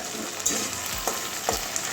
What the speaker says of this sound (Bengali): এরকম ভেন্ডিটা আমার ভাজা হয়ে গেছে